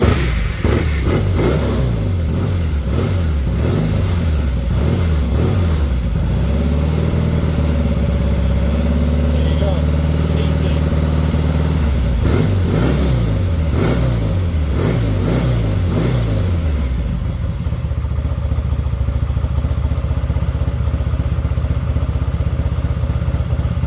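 A vintage Triumph motorcycle engine runs close by, its loud, lumpy exhaust swelling through several revs before the engine cuts out and leaves only a faint hiss.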